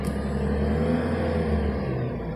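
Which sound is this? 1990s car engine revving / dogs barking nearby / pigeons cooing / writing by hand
1990s car engine revving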